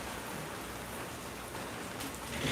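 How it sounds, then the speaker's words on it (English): Rain falls outside an open window, a soft, even hiss of drops with no distinct splashes, faint and steady, swelling slightly at the very end. "It's starting to rain outside"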